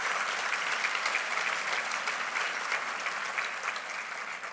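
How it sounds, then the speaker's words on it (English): An audience at a regional civic address claps in steady, sustained applause that fills the room evenly for several seconds. "how about another round of applause for our entertainment this afternoon?"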